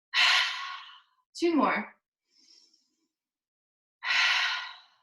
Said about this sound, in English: Exhale it out through the mouth.